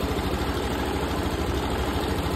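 A Yamaha BWS'R 125 scooter engine idles steadily after a repair, a close, even low rumble with no speech.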